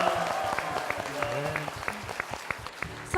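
A church congregation at Anyang Methodist Church gives a round of applause, scattered claps rising over a voice speaking through the hall.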